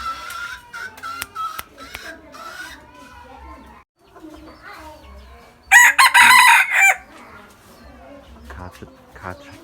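A two-year-old decoy rooster, yellow in colour, crows loudly and close by for about a second midway, with scattered clucks and someone talking before it.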